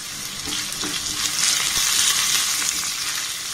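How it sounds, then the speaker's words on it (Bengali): Onion stir-frying with lentils and cumin seeds in a pan, a steady close sizzle with a few soft scraping stirs, no talk. "পেঁয়াজটাকে একটু হালকা নাড়াচাড়া করে ভেজে নেব।"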